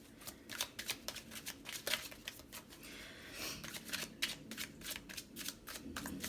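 Tarot cards being shuffled by hand, close and soft, in repeated bursts of riffling and flicking with short pauses between them.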